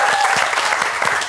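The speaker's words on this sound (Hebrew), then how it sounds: "אז רק על זה מגיע לך מחיאות כפיים" A studio audience at an audition show applauds loudly and continuously in a brief, dense burst of close clapping.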